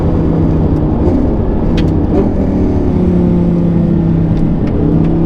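A 2011 Lamborghini Gallardo Superleggera LP 570-4 being driven, its engine a loud, steady close drone held at fairly high revs, with no talk heard.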